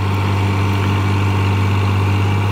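An 11-year-old New Holland 5500 tractor engine idles nearby with a steady, low diesel rumble and constant throb, unchanging for the whole stretch.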